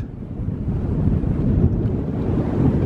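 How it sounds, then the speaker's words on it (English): Gusty wind buffets the microphone out in open mountain country, a continuous low roaring rush that swells and eases without pause, close and fairly loud with no voices. "It's a bit windy."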